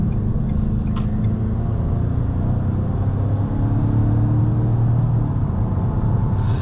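Cabin of a 2023 Ford Maverick Tremor pickup at highway cruising speed: a steady low rumble of engine, tires and road noise holds an even level throughout, with a faint brief tick early on.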